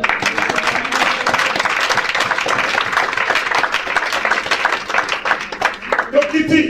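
A church congregation applauds and cheers to acclaim the Lord during a sermon, steady dense clapping with crowd voices throughout, loud and close, thinning slightly near the end.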